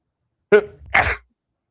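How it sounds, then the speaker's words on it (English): A person sneezes once at close range, a sharp breathy burst followed by a rougher, noisier exhale, with quiet around it. "I'm probably going to start sneezing."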